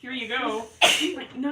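A single sharp sneeze bursts out near the middle, loud and close, with people talking casually just before and after it.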